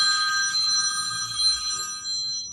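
A telephone bell rings loudly and steadily for a couple of seconds, a bright sustained ringing tone with no talk over it.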